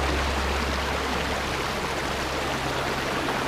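Rushing river water at the Tacloban river in Batangas, a steady broadband roar of fast current over large rocks, close and continuous with no voices.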